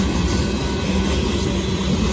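A Union Pacific freight rock train rolls past at Dittmar Road in Austin, Texas, a loud, steady broadband rumble of wagons that holds evenly throughout with no pauses.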